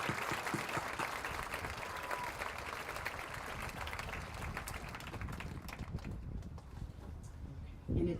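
Crowd at a high school graduation ceremony applauding, a broad patter of clapping from many hands that slowly fades and thins toward the end.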